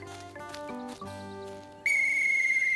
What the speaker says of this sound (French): Mon nouveau sifflet.